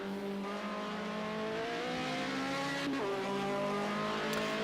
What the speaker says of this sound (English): Really high revving BMW engine.